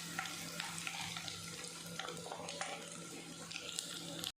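Curry leaves crackling as they fry crisp in hot oil for a green beans palya, a close, steady, dense sizzle that carries on until an abrupt cutoff.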